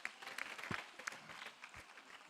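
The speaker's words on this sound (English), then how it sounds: "Please, a round of applause for him" Applause for Dr. Zacchaeus Adedeji at a tax summit award moment: scattered, fairly quiet clapping from an audience, with a few sharper claps standing out over a soft, steady patter.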